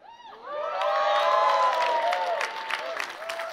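Audience at the RuneFest 2017 keynote applauding and cheering, the sustained crowd noise swelling after a moment and staying loud, with whoops mixed in.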